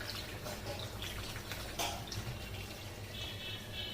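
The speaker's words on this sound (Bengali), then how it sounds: "আমি জল দিয়ে দিচ্ছি।" Water pours steadily into a pot of cooking goat mutton, making a continuous close splashing rush with a brief louder gush partway through.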